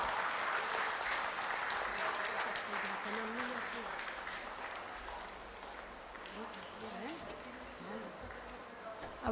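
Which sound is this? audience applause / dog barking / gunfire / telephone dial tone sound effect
audience applause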